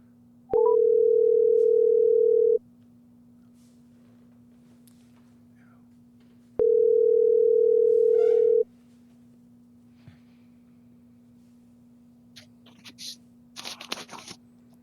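Telephone ringback while calling someone, two long steady ring tones separated by a pause, followed by faint rustling and the start of a voice as the call is answered.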